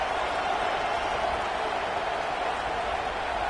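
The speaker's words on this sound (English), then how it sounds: "The Buckeye crowd alive on third down." Football stadium crowd at an Ohio State Buckeyes game cheering on a third down, a steady, dense roar of many voices holding at an even level throughout without any clear peaks.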